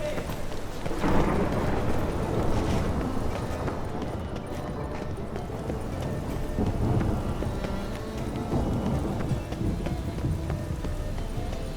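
Rain and thunder fill a scene in the video game The Witcher 3: Wild Hunt, with a steady rain wash, low rumbles and horse hooves clopping on a road, at moderate loudness.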